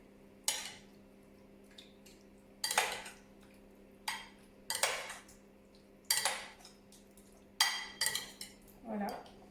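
A spoon stirs shrimp and fish pieces with charmoula in a bowl, giving five or six separate bursts of scraping clinks about every one and a half seconds, close and fairly loud against quiet background.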